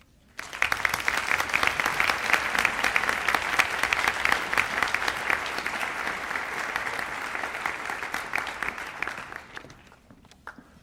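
A crowd at a senior academic recognition ceremony applauds the Female Student of the Year with sustained, dense clapping that holds steady for about ten seconds, then tapers away at the end.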